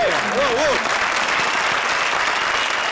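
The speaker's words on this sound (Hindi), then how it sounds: "जोरदार तालियां निगार और राजा के लिए" Loud, continuous audience applause on a comedy TV show stage, with a brief voice at the start over the clapping.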